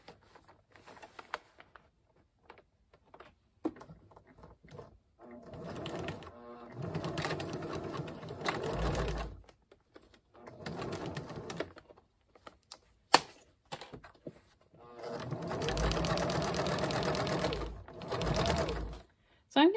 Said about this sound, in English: when I start sewing, I'm not going to start right at the very edge